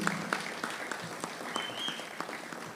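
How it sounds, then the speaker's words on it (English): An audience at a community zone meeting claps together in sparse, distinct bursts, with scattered individual claps and a brief whistle cutting through, moderately near and not very loud. "I want a double clap for that."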